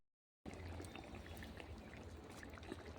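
Rohu fish curry with eggplant and tomato is poured out of a pot cooked over a clay stove, making a soft, continuous pouring and splashing sound that begins abruptly after a brief silence.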